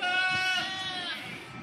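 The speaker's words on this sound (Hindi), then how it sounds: "दोस्तों 3 बकरियाँ और 4 इनके बच्चे हैं माशाल्लाह" Goats and their young kids at a rajapuri goat farm bleat in a close, continuous overlapping cry, one long wavering bleat running into another, loud and alone with no talk.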